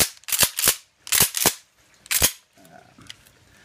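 A Mossberg 500 pump-action shotgun is racked during an action check. Three pairs of sharp, loud metallic clacks ring out in quick succession, followed by quieter handling noise.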